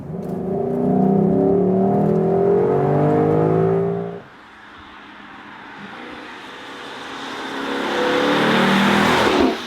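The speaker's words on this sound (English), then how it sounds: "Even though in the convertible we hear a little bit more from the exhaust" A Lexus LC 500 convertible engine revs hard and loud, then drops away, followed by a rising whoosh of exhaust and wind as it accelerates again from about 50 km/h.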